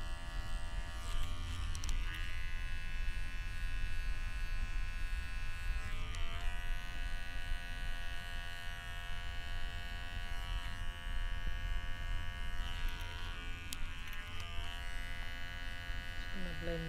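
An electric shaver running steadily during a head shave at a beach barber session, a close, constant buzzing hum lasting throughout with slight shifts in pitch as it moves, with talk underneath.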